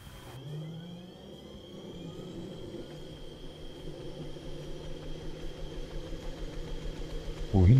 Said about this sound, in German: Schmeiß den Motor an.